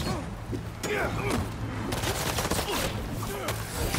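A continuous rattle of gunfire in Marvel's Spider-Man 2, the shots close and busy, with a voice speaking over it.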